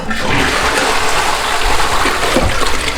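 A toilet in a newly installed bathroom flushes with a loud, steady rush of gushing water that fills the whole stretch without pause.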